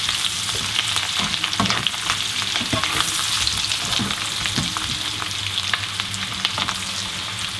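Chicken of the woods mushroom frying in a pan with tomatoes and garlic, a steady close sizzle with crackles and occasional stirring scrapes throughout, no talking.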